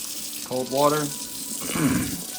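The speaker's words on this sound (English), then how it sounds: "rinse them out with cold water" Cold tap water runs in a short gush into a kitchen sink, rinsing hollowed-out peppers, a bright splashing stream that swells twice over a couple of seconds.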